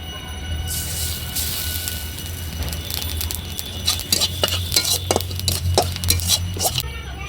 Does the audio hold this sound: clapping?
no